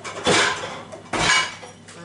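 Plates and cutlery clatter twice as a dishwasher is loaded, two loud bursts of clinking dishes close by, with quieter handling between them and no talking.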